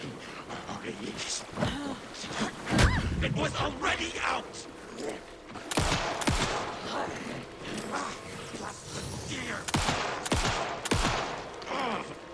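Shotgun blasts in Alan Wake 2, several loud sharp booms spaced irregularly through a tense combat scene, with a voice talking in between.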